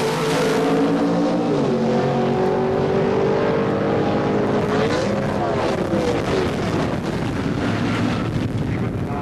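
Drag racing car at the 1977 NHRA Summernationals launching and roaring down the quarter-mile asphalt strip, a loud sustained engine howl with a pitch shift partway through, heavy wind noise over it.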